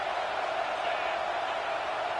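Steady roar of a football stadium crowd cheering, a dense wash of many voices holding at a constant level with no breaks.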